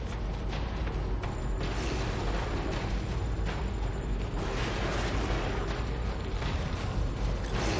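A grenade explodes in the survival-horror game The Evil Within amid a dense, continuous roar of game audio, with booming blasts and rumbling debris that stay loud and close throughout.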